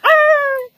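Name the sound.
voice imitating a small dog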